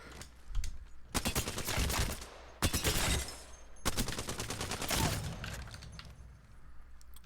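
In Apex Legends, an Alternator submachine gun fires at practice targets in several rapid bursts of crisp, close shots separated by brief pauses, loud over a quiet background.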